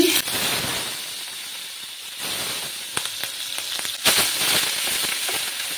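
Onion paste hits hot mustard oil with whole cumin for an egg and brinjal curry, giving a steady close sizzle and hiss with scattered crackles and pops throughout.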